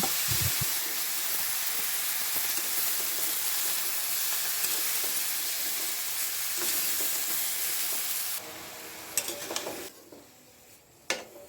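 Chopped mixed vegetables sauté with fried lentils, turmeric and salt in a pan, making a continuous loud sizzle with stirring that suddenly drops away near the end, followed by a few faint knocks and a sharp clink.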